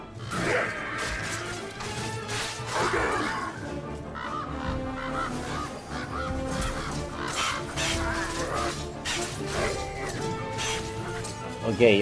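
Birds cawing and squawking in the scarecrow field of the MediEvil video game, repeated harsh calls over game noise and crashes, with someone talking throughout.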